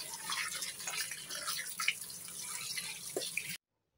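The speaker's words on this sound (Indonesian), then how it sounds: "kulit daging kambing kita cuci bersih" Goat meat being washed in water, with close splashing, dripping and trickling as the pieces are rinsed, ending abruptly in silence.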